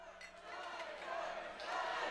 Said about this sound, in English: the crowd noise at the very beginning, where they're chanting encore